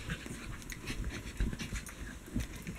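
A dog pants steadily in quick rhythmic breaths, close and fairly quiet, with a few faint whimpers.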